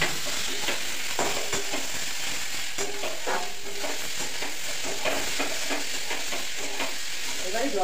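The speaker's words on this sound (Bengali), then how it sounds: "এবারে জলটা দিচ্ছি, জল একটু দিতে হবে।" Water poured into a pan of cooking potatoes sets off a steady, dense hiss and sizzle that runs close and constant throughout, with scattered soft scraping clicks over it.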